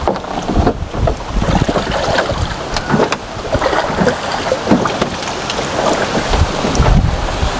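Rain falls steadily throughout during net fishing on flooded water, a dense broadband patter with scattered heavier splashes and drips, continuous and fairly loud, with no talking.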